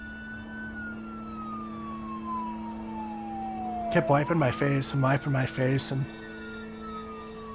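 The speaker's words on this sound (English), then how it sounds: "I could hear the sirens finally show up out front." Police sirens arrive out front of a house, a sustained wail sliding slowly down in pitch and then rising again, fairly faint and steady while someone speaks over it.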